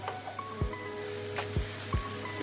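Vegetables and garlic frying in a pan as they are stirred, with a faint sizzle throughout and a few soft thumps of the utensil against the pan, quiet and close.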